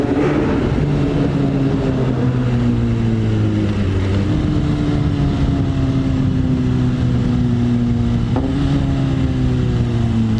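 A BMW S1000 RR superbike engine roars loudly and steadily, its pitch stepping down in distinct drops as it downshifts, close by in a quiet early-morning town.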